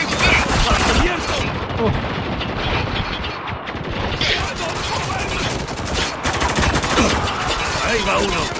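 Dense, continuous gunfire in the Spec Ops: The Line video game, loud and sustained throughout with overlapping bursts and rattling shots, no clear pauses.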